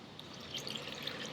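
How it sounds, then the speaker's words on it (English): A cup of water is poured onto garlic butter spare ribs on an offset smoker grill, a faint, brief steady splash and trickle. "We're gonna put a cup of water in there and go nice and slow."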